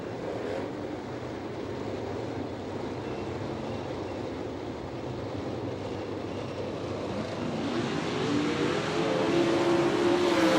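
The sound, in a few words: World of Outlaws sprint cars racing on dirt track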